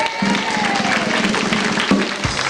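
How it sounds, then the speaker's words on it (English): A live audience cheers and claps for the English people among them, a dense, steady wash of crowd noise with a few sharper bursts throughout. "Any other English people in the audience? Give them a cheer."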